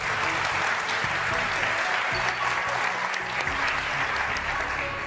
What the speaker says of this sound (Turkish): Alkışlar sizin için Erdem abi